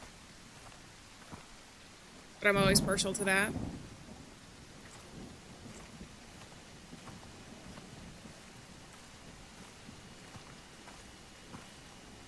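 Soft steady rain patters in the background throughout, faint and continuous, while someone talks over it and a brief loud burst of sound cuts in near the start.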